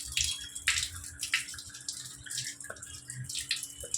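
Tap water runs and splashes while goat intestines are cleaned, an uneven gushing stream with soft sloshing bursts close by and no talk.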